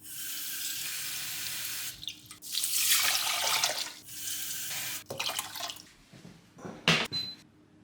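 Water runs from a tap into a pot for boiling rice, a strong steady rushing stream that briefly stops and restarts, ending with a few drips and small clinks.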